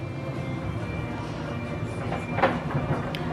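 A train pulling freight cars rolls past with a steady, fairly loud rumble and clatter, swelling slightly toward the end.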